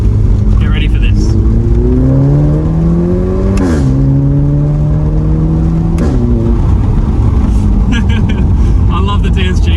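A 2015 Volkswagen Polo GTI 6C hot hatch accelerating hard in sport mode with the windows down, its engine note climbing steadily through gears with brief dips at upshifts, loud and close inside the cabin.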